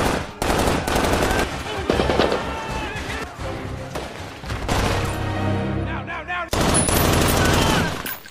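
Heavy machine gun fire aimed at a sniper in the Iraq war film Green Zone, set in 2003: dense, loud bursts of rapid shots that run almost continuously, with one brief break.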